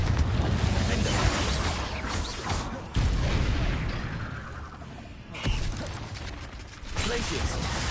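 Loud booming blasts from Confringo fire spells in Hogwarts Legacy, several bursts in quick succession over dense combat noise, with a spoken incantation mixed in.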